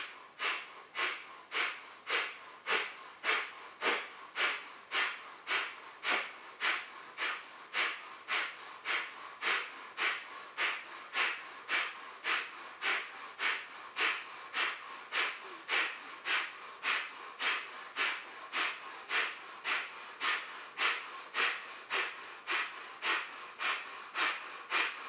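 Kapalabhati breath of fire yoga breathing: a long run of sharp, forceful nasal exhales in a fast, very even rhythm, roughly one per second, close and alone.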